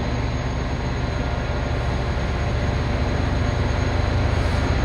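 Several old EMD diesel locomotives idle at Secaucus station with a steady, loud low rumble and a constant drone, unbroken and with no voices, filling the whole stretch.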